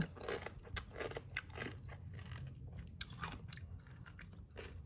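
Crisp quick-pickled mustard greens crunched and chewed up close, with a steady run of wet, crackly bites over about five seconds and no talking.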